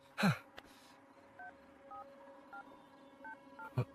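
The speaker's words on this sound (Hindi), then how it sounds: "यार तू फोन लगाएगा ठीक है प्लीज?" A telephone is dialed, a series of short, evenly spaced keypad tones at moderate level, bracketed by a couple of handling clicks, in a quiet room with no talking.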